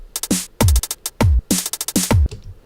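A second drum pattern loop variation in Ableton plays as a busy groove of punchy kicks, snare hits and quick hi-hat ticks in a steady rhythm, loud and alone.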